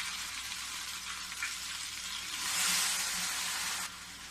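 Ghevar batter poured in a thin stream into hot ghee, sizzling and crackling steadily with a bright frothy hiss that swells loudly for a second or so near the end before settling back.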